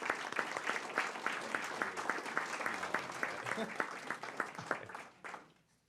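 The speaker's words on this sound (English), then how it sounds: "let's give Ron a round of applause" A school board meeting audience applauds a retiring head coach with dense, steady clapping that fills the room and then quickly dies away near the end.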